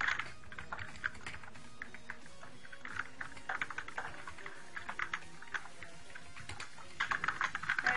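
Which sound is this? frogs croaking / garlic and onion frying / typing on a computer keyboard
typing on a computer keyboard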